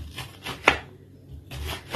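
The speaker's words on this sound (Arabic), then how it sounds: "كما كتلاحظوا دابا كنقطع 2 ربيطات ديال البصله" A knife chops two bunches of green onions on a board, a few crisp cuts with a loud single strike near the middle and quieter chops before and after, close up with no talking.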